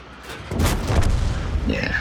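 A tank gun fires once in a video game with a deep, heavy boom that rolls on for over a second. A voice is heard under it.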